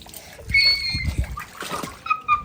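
Water splashes and drips as a wet bathed doll is squeezed out, a few short close splatters and trickles in quick bursts, with faint background sounds.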